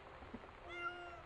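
A person's voice imitates a cat meowing during play of the Gone Home video game, a couple of short, quiet mews heard alone.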